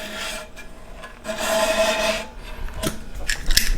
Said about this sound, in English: and we're just gonna cut the silicone.